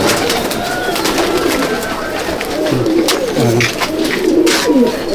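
Pigeons in a loft coo steadily throughout, with repeated low throaty calls layered close by and a busy flock murmur underneath.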